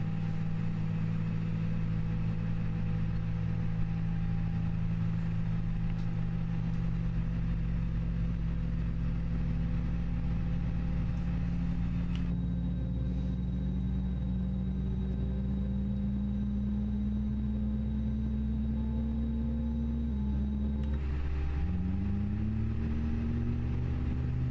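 Airbus A320 engine spooling up in a flight simulator cockpit, a steady loud turbine whine and low rumble that rises in pitch as the engine comes up, with another tone shift near the end.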